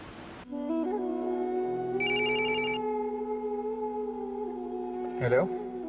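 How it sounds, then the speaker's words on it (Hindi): A telephone rings with a steady electronic tone, a brighter chiming burst partway through, then a clatter as it's picked up; no talking. "वो एनी का फोन आ गया था।"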